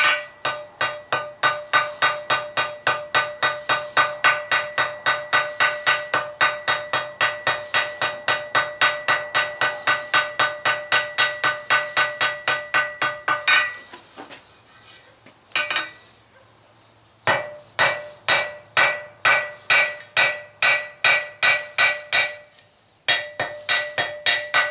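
A metal brooch pin being hammered flat on an anvil, with sharp ringing strikes in a fast, even rhythm, close and loud, pausing briefly and resuming.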